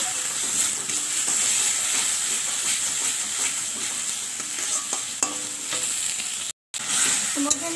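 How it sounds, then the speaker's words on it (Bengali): Spice paste with turmeric being sautéed in a pan, a loud, dense, continuous sizzle and hiss with occasional stirring knocks and a brief dropout near the end; no talking. "আবারও কিছুটা ভালো করে আমি এটাকে কষিয়ে নেব মশলাটাকে।"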